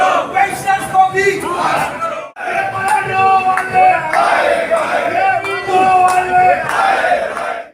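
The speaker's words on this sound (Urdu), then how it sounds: "سنے آپ نے کیسے ذوالفقار شاہ اور جاوید بلوچ نے نعرے لگائے اور محنت کش بھی ان کے ساتھ یکجہتی کر رہے تھے" Crowd of workers and retired employees chanting protest slogans demanding their rights, loud rhythmic shouted voices in unison repeating over and over, with a brief break near the middle.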